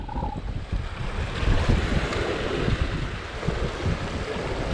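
Ocean water surging and churning around rocks at high tide on an island shoreline, a steady loud wash of surf with gusting wind noise on the microphone, no speech.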